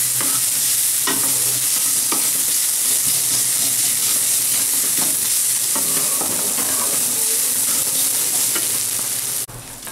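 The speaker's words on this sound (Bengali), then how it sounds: "পেঁয়াজ আর রসুনটা একটু লালচে করে দিয়ে দেবো।" Onion and garlic fry in a pan until browning, giving a loud, continuous close sizzle with scattered crackles and pops throughout, with no talk over it.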